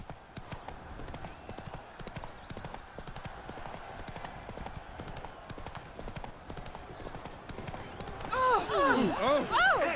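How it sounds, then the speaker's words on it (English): Horse hooves clip-clop steadily in The Witcher 3 game throughout, with the horse pulling up and a voice speaking loudly over the final seconds. "Whoa there, Roach."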